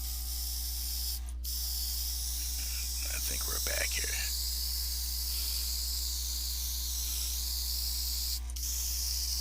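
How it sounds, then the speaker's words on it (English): Rubbing alcohol sprayed into a pen needle to clean it gives two short, sharp hisses several seconds apart over a steady background hum, with a brief remark spoken between them. "I'll just take rubbing alcohol, which wears this stuff right down, and I can just spray that in there and cleans up the needle"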